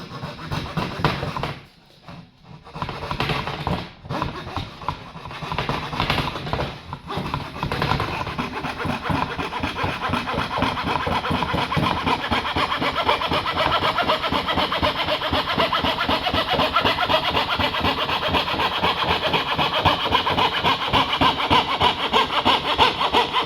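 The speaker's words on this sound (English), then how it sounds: "then we'll just get coping saw and we're just going to follow it round now" Coping saw cutting along a marked line in wooden skirting board: a few hesitant strokes at first, then steady rapid rhythmic rasping close up that runs continuously to the end.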